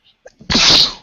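A single loud, close sneeze bursts out after a couple of faint breaths, a sharp breathy explosion that trails off quickly.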